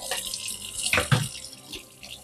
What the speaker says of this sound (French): on rince le réservoir